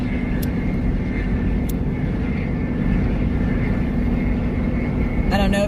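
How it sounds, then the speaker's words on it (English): A truck engine drones steadily while towing a trailer loaded with hay up an incline on a North Carolina road, a constant low rumble with faint tonal whine and a brief burst of other noise near the end. "I don't know if you guys can hear his truck"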